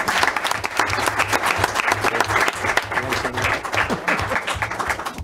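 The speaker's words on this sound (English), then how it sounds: "I'd like to ask you to another round of applause for her." Sustained applause from the audience at a Murray City council meeting, dense and steady clapping throughout at close range with no talk over it.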